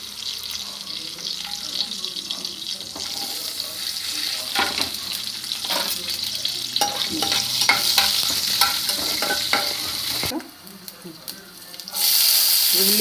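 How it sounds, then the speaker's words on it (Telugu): Garlic, cumin seeds and fenugreek seeds frying in oil in a pan while being stirred, a steady close sizzle with scraping stirs, briefly dropping quieter before the hiss returns strongly, with a voice speaking at times. "ఇది బాగా కొంచెం ఎర్రగా వేగి వరకు ఎక్కబెట్టుకోవాలి"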